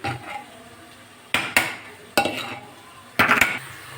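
Ingredients for a bhindi (okra) dish are pounded by hand, with four sharp, close knocks in uneven spacing and quiet kitchen clatter between them.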